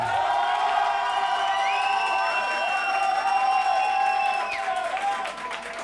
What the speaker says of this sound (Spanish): Que sean fuertes los aplausos para Milenko.